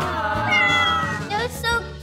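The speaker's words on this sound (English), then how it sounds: "We'll watch the kittens and the cats." Several young rescue kittens meow in close, overlapping high cries, one after another, fairly loud and near.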